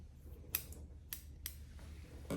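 Scissors snip through curly hair in a few sharp, close cuts spaced apart, quiet and alone over a faint background hum.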